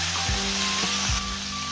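Chopped tomato hitting a hot pan of cooked ginger and potato for sabudana khichdi, giving a steady close sizzle with soft stirring knocks, and a faint tonal hum running underneath.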